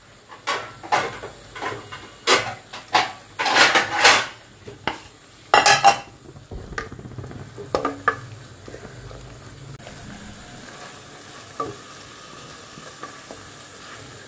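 A rice pot being covered with its lid on a switched-off gas stove, with a burst of loud close metallic clanks and clatters of pots and pans, then quieter scattered knocks fading into low background.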